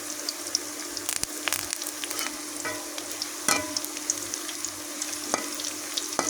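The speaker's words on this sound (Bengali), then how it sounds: "এখন পেঁয়াজ আমি লাল লাল করে ভেজে নেব" Onions frying in a pan for a quail curry, with a steady crackling sizzle and occasional louder pops and stirring scrapes, close and continuous throughout with no talk.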